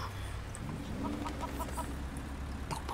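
Chickens cluck faintly from a chicken van in the Sleeping Dogs video game, short calls mixed into a dense wash of street and traffic noise with some background voices.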